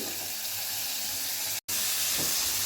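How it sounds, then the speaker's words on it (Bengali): Cauliflower florets fry in hot oil in a pan, giving a steady close sizzle and hiss that breaks off for an instant before carrying on. "আর কপি ভাজা হচ্ছে ফুলকপি"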